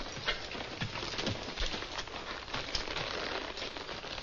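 Hooves clop in an irregular rhythm on hard ground, a horse moving nearby, with a soft rushing background.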